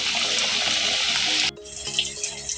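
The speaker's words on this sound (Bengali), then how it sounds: "এই বেসনটাকে দিয়ে লাগিয়ে তারপর আমি এটাকে ভেজে নেব বন্ধুরা দেখুন আমি এই একটা ভেজে নিচ্ছি" Gram flour–coated fish (lote) frying in hot oil, a steady bright sizzle that cuts off abruptly midway and resumes more softly, with faint clatter of handling underneath.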